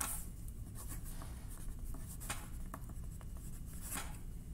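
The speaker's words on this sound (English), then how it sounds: "And finally, I need to autograph it." A pen autographs an art card with soft, close scratching strokes, a few quick scribbled bursts over a steady low room hum, no voice present.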